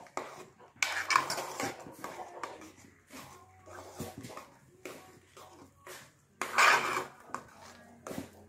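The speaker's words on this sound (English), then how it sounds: "So he is putting the Garri, and as he's putting, as you can see, he was stirring it" A spoon stirs garri into hot water in a pot, knocking and scraping against the sides in intermittent bursts, with louder clattering strokes near the start and again toward the end.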